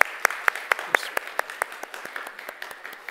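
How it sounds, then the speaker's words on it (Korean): A church congregation at a Sunday worship service claps in a steady, even rhythm, a string of sharp, distinct claps at a moderate level. "우리 하나님께 우리 영광의 박수를 먼저 한번 올려드리겠습니다"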